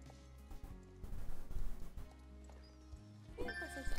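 Hoofbeats of a horse in the online video game Star Stable Online, rhythmic clip-clop steps with a brief whinny-like tone near the end, heard beneath game music.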